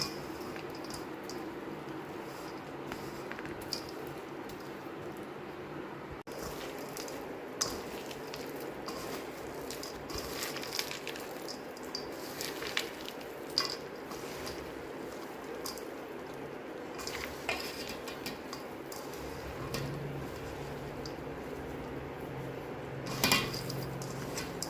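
Seeds and nuts are stirred into a sugar-free mixture in a bowl, giving faint scraping and soft spoon-on-bowl clinks scattered over a quiet room.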